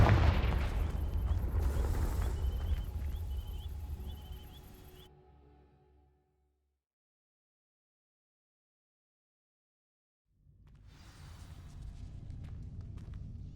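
A Confringo blasting spell in Hogwarts Legacy, a loud booming blast with rumbling low end and shimmering tail that fades into silence, followed by another rumbling burst rising afterward.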